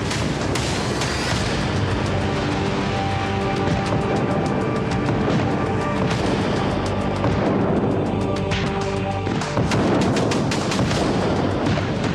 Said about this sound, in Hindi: उस वक्त पाकिस्तान ने ताबड़तोड़ आग्नेयास्त्रों, बमों से हमला कर दिया।